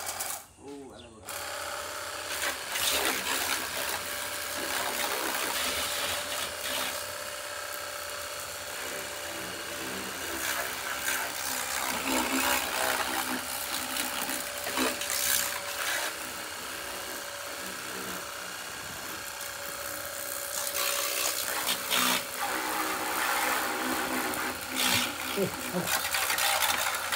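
A pressure washer runs continuously at a summer home in Konkan, giving a loud, steady mechanical whine and rush with slight fluctuations for the whole stretch, while voices talk intermittently over it.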